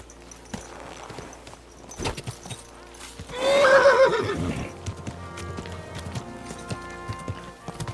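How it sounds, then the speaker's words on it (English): Hooves clop steadily while a horse lets out a loud, close whinny midway in the video game Kingdom Come: Deliverance II, followed by continued hoof beats and rustling movement. "Your horse nearly trampled me."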